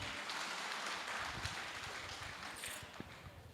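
An audience applauds after a speaker's talk, a dense, continuous patter of many hands clapping that sounds faint and somewhat distant and holds steady for several seconds.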